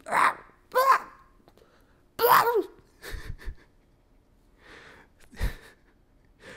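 A person mimics bird calls with a series of short, harsh caw-like vocal bursts and squawks, spaced irregularly, close and fairly loud with no other talk.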